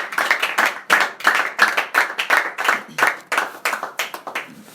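A church congregation claps in rhythm to acclaim the Lord, a steady run of close, loud hand claps repeating at a brisk pace throughout.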